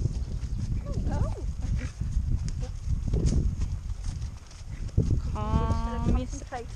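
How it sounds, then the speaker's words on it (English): Horses on a countryside hack clip-clop along at a walk, their hooves steady beneath riders chatting nearby, with what sounds like a short whinny partway through. "Concentrating on trying to control our horses."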